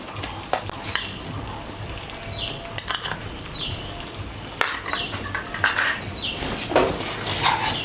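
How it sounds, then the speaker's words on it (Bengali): Salt and sugar are stirred into yogurt in a bowl with a spoon: repeated scraping and clinking of metal against the dish, with a few sharper knocks and bursts of clatter, close and fairly loud, no voices. "নুন চিনিটা ভালো করে মিশিয়ে নেব।"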